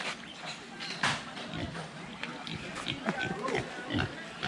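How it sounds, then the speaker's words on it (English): Small pigs grunt and snort in short bursts at close range on a farm in Linton Bay, Panama, while people talk nearby and other farmyard noise carries underneath. "Some little pigs down here."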